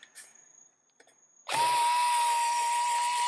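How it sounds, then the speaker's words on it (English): A power drill or driver runs continuously at close range, driving screws into the bracket of a Tornado Pro wall fan, starting abruptly after a second and a half of quiet clicks and handling noises. "So let's not tighten it up all the way before we have all the screws in"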